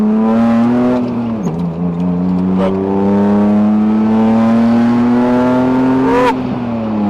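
A car engine with reduced power, said to have around 200 horsepower left, revs and pulls hard under acceleration, its steady loud drone rising through gear changes close to the listener, alone without talk.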